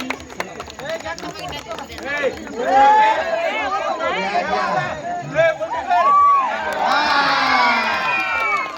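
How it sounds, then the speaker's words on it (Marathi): A crowd at a village Home Minister game show event claps and cheers loudly and close by. Excited shouts and voices rise in bursts over the noise, and a surge of cheering swells near the end. "जोरदार टाळ्या झाल्या पाहिजे दोघांसाठी"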